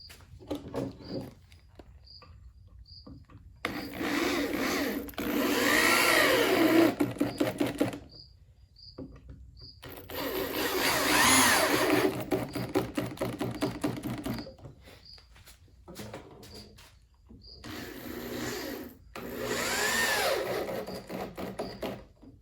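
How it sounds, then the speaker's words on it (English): Power drill driving screws through a wooden rail into the posts of a bed frame, heard as five long close whirring runs separated by short silences, with faint clicks in the gaps and no talk. "So now I'm going to screw in all the screws to hold the rail into the posts."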